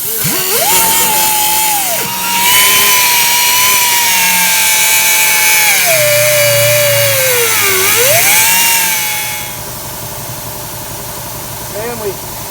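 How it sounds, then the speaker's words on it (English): An angle grinder cuts into an auger gearbox shaft with a loud whine whose pitch sags and then recovers as it bites into the metal. The grinder then winds down to a quieter hum. "You can see we're putting a grinder in there."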